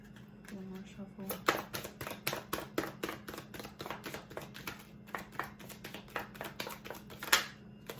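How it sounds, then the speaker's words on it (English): Tarot cards being shuffled by hand, a long run of quick crisp riffling slaps and flutters, close and fairly loud, with soft speech in between. "One more shuffle."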